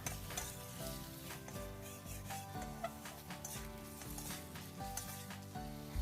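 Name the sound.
stir-frying panang curry paste with vegetable oil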